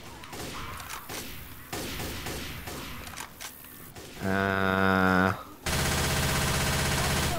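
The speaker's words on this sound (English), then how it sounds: "Prefer the machine gun." Bursts of rapid machine-gun fire from the video game Left 4 Dead 2, loud and dense, with sustained automatic volleys that come in stops and starts.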